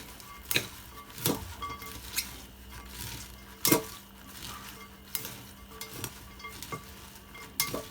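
A utensil stirs cabbage pie filling in a pan on the stove, with gentle sizzling beneath and a run of sharp clinks and scrapes against the pan, irregularly spaced over several seconds, close and without speech.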